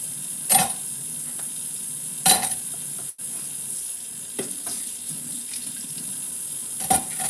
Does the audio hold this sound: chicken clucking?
no